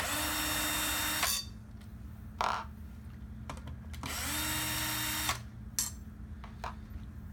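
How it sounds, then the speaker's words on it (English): A power drill backs the four screws out of a door handle spindle plate in two long whirring runs. Short bursts and quiet clicks and handling noises fill the gaps between them. "Next, we have the 4 screws that are on this spindle plate. We're going to remove those."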